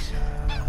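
Geese honking at a park lake, a short burst of two or three nasal honks close by with faint outdoor background noise.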